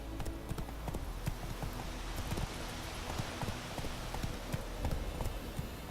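Hooves of a horse in the video game The Witcher 3 clip-clop in a quick, even trotting rhythm, close and distinct over a soft ambient game backdrop, with no talking.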